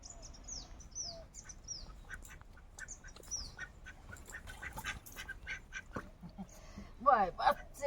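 Ducks quack intermittently against a quiet backdrop, with birds chirping and a louder burst of quacking near the end.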